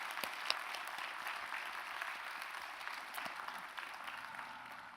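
A church congregation applauds during a Sunday service, with steady, distant-sounding clapping that holds through the whole stretch at a soft level.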